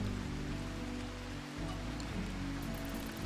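Steady rain falls in the Rimworld video game, a continuous close hiss of drops on surfaces running unbroken throughout.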